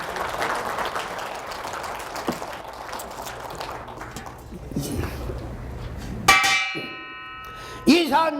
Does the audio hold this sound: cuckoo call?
no